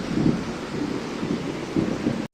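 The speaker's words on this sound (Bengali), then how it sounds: "এদিকে বিদ্যুৎ চমকাচ্ছে বৃষ্টি হচ্ছে" Thunder rumbles in low rolling bursts during a rainstorm with lightning, over a steady wash of rain and wind noise, before cutting off abruptly at the end.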